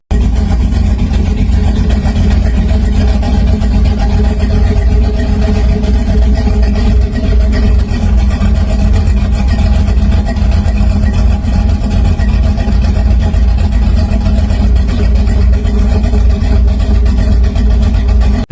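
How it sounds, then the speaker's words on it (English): Engine of a 1930 hot rod car running loud and close, a steady rumbling drone with little change across the whole stretch. "This is a 1930 Hot Rod."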